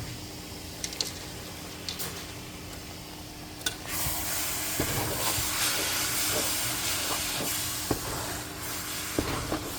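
Cassava leaf stew with peanut butter fries in a pot, a soft crackle that jumps into a louder, continuous sizzling hiss partway through, with occasional small clicks and no talk.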